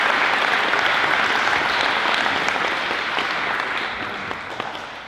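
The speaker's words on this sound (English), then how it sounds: "So give each other a quick round of applause, please, on that." An audience at a high school awards ceremony claps in a dense, steady round of applause that slowly fades toward the end.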